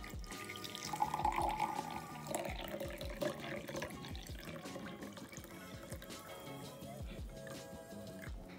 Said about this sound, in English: And now let's add the hot water.